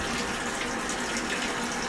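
Washing machine filling with water at the start of a soak cycle for white laundry: a steady, close rush of running water, constant throughout.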